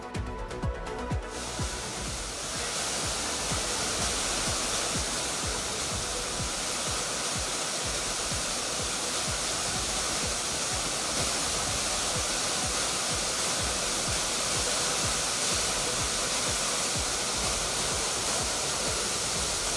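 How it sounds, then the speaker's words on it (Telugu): Bogatha waterfall in flood, a continuous heavy roar of rushing water that fills the whole scene, loud and steady throughout, with no voices. "భారీగా వస్తున్న వరదతో బొగతా జలపాతం కనువిందు చేస్తుంది."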